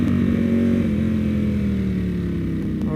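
A Ducati Panigale V4 SP fitted with a Termignoni exhaust idles nearby, a loud, steady, throbbing engine drone that dips slightly in pitch toward the end.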